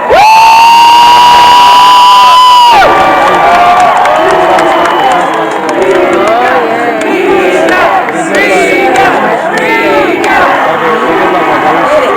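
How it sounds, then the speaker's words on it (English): A large crowd at a Renaissance fair joust roars and cheers loudly and continuously, with shouts and whoops layered over one another, following a sustained horn-like tone at the start. "Who cheers for Prince Miguel?"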